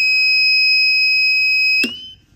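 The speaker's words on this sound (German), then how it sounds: "weil das Piepsen ist ja schon echt laut" WCS Combi battery charger sounding its Error 6 warning, a loud, piercing continuous electronic beep held close for nearly two seconds before cutting off abruptly with a click, leaving faint hum.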